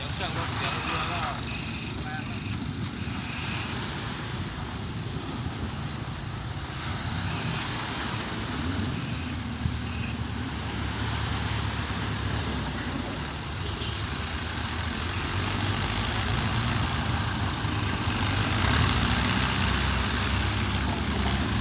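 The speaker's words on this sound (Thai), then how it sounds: "เสียงเครื่องรถเสียงเรือแล้ว" A vehicle engine runs steadily while hauling a boat ashore, a continuous broadband rumble with a slight rise toward the end, and voices talking over it outdoors.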